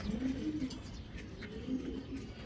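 Racing pigeon cooing, a soft low repeated coo rising and falling several times, fairly close against a light background hum.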